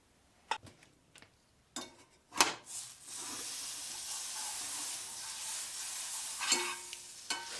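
Scrambled eggs cooking in a cast iron pan, with a metal spatula giving a few sharp scrapes and taps before a steady sizzle takes over, punctuated by more scraping near the end.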